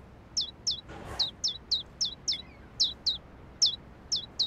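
Hungry baby birds in the video game A New Beginning, a rapid series of high, thin chirps repeating at a steady rhythm, close and clear against a quiet background with one soft rustle near the start.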